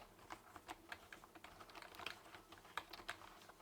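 Keystrokes on a RedThunder K20 wireless keyboard with UK layout, a steady run of light, quick clicks at irregular spacing, close and fairly quiet, with no talking.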